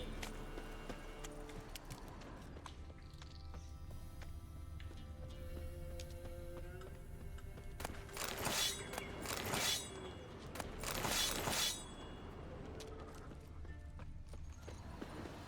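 Roach, the horse in The Witcher 3, gallops with steady rhythmic clip-clop hoofbeats close by, joined by snorting bursts in the middle, with no one speaking.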